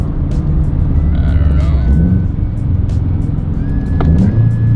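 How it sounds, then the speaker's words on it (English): Subaru BRZ/FRS/GT86 engine blipped with quick throttle taps, short rising revs over a low steady rumble heard from inside the car. "Like you just tap it and it just flies to 4K."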